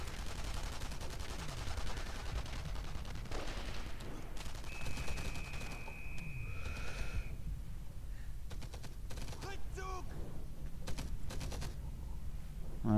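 Enemy soldiers' gunfire in the WWII shooter Enemy Front, a steady spread of rifle and machine-gun bursts from several directions, with explosions and battle noise throughout and no voices.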